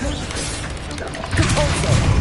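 Incendio fire spell cast in Hogwarts Legacy during combat, a burst of fiery whooshing and crackling impacts under a spoken voice, swelling louder toward the end.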